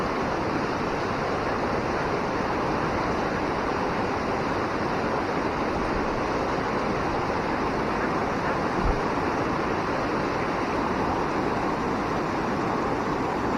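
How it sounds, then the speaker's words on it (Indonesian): Swift water rushes through a shallow river after flash flooding, a steady, dense roar of flow that continues unbroken and fairly loud throughout. "Kita lihat airnya deras."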